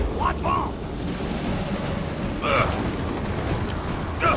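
A windflare storm blast in Gears of War 4 roars through as a steady, loud broadband rush of wind, with a few brief tonal game blips around it.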